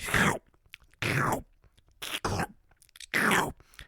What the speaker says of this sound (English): it's just that dog just slurping it